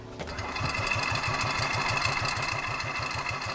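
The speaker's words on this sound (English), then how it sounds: "I've never driven a golf cart before, but it looked like too much fun to let Danger do all the driving" Steady small engine of a rental golf cart on Isla Holbox, Mexico, running with a regular rapid chugging pulse as it drives along, close and continuous with no talk.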